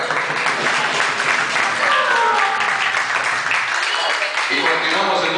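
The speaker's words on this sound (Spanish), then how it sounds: "El aplauso para el amor, Gloria" Audience applause at a live show, a sustained, fairly loud patter of many hands clapping throughout, with voices murmuring in the crowd underneath.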